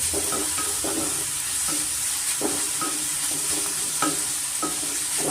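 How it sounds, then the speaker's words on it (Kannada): Finely chopped arive soppu greens frying in a pan for egg burji give a constant sizzle, with regular scraping stir strokes against the pan roughly every half second. The sound is close, with no voices. "ಸೊಪ್ಪು ಅಷ್ಟು ಚೆನ್ನಾಗಿ ಫ್ರೈ ಮಾಡ್ಕೊಬೇಕಾಗತ್ತೆ"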